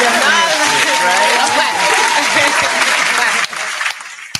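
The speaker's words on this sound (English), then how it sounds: "I'm gonna clap for that." Steady applause from a small group of people clapping together during a podcast conversation about womanhood, dense and continuous before thinning slightly near the end, with faint voices underneath.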